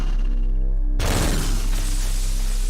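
Gunfire in the Future Noir video game breaks in suddenly as a loud, dense, heavy-recoil burst that carries on steadily to the end, with no talking.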